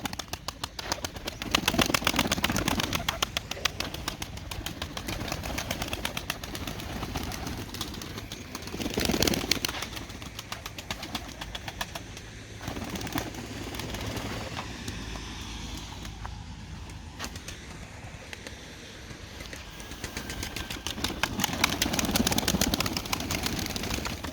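Posta pigeons flap and coo around a coop as they are fed, with soft fluttering and low cooing rising and falling against a quiet outdoor backdrop.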